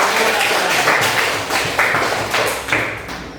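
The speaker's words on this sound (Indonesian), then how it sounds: "Tepuk tangan untuk kelompok satu." Classroom applause for a student group, several uneven bursts of close, fairly loud clapping with thumping taps that swell and fade across a few seconds.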